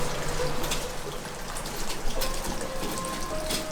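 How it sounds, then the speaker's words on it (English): A steady splashing, trickling flow of hot spring water runs throughout, pouring into an open-air onsen bath at a ryokan in Shinhotaka Onsen, Takayama, Japan, close by and fairly loud. "The hot spring water just comes right through here."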